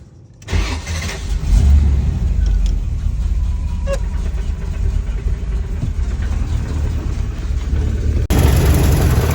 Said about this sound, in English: I did get a video of it knocking, so enjoy that noise